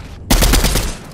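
A sudden close burst of rapid automatic gunfire from a video game firefight, loud and dense for under a second before cutting off.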